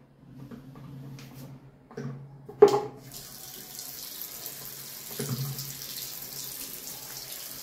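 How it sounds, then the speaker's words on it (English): Tap water runs steadily into a sink for hand washing, starting after a few soft clunks and handling knocks and continuing as a close, even hiss. "Fourth is hand washing."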